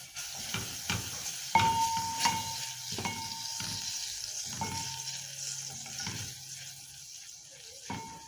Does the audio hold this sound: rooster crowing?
no